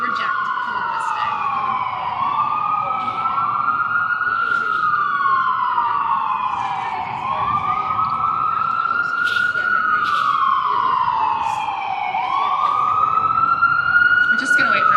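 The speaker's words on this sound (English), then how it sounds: "We're just going to wait for a second when the siren passes." An emergency vehicle siren passes along a Philadelphia street during an outdoor live-streamed event, its loud rising-and-falling wail repeating steadily for the whole stretch over a low traffic rumble.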